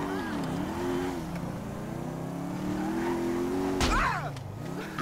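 Motorcycle engine in GTA 5, a big bike revving steadily and rising in pitch, loud and continuous, with a brief sharp burst and swooping engine note near the end.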